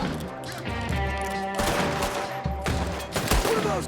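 Gunfire in the Western video game Red Dead Redemption 2, a loud rolling volley of shots with a couple of sharp separate bursts, up close and dense.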